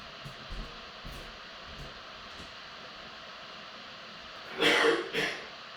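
A man with a lingering nagging cough clears his throat twice in quick, rough bursts, close to the microphone, after a stretch of quiet room hum with a few faint thumps.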